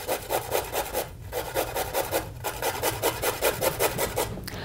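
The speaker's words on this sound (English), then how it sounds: "I actually use the smallest hole on the grater" A carrot is rubbed against the smallest holes of a hand grater pressed on a firm surface, making rhythmic scraping rasps in quick back-and-forth strokes with short pauses, close and fairly loud.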